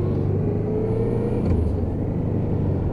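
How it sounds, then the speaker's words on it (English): A Honda NT700 Deauville shaft-drive motorcycle, recently fitted with new forks and tyres, runs along the road with a constant low engine drone and rumble mixed with wind and road noise. "But bike is running fine."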